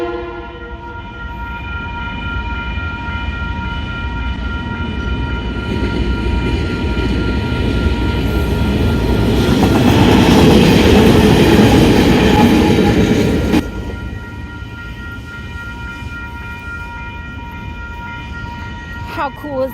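A train rumbles past on the rails in Christchurch, New Zealand, swelling to a loud roar mid-clip and then easing off, with steady tonal hum throughout.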